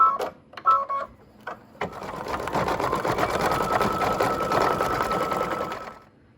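A home embroidery machine stitches a Mylar dress design, its steady rapid needle chatter running continuously for several seconds after a few short starts, then stopping.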